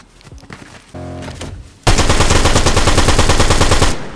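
SMG fire in a first-person shooter video game: a few scattered shots and a short mechanical rattle, then a loud, unbroken automatic burst of rapid rhythmic shots lasting about two seconds, close and dominant.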